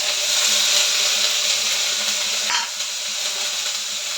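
Carrots dropped into a small amount of hot oil for prawn pulao give a steady broadband sizzle close by, with a brief stir or clatter near the middle and no talking.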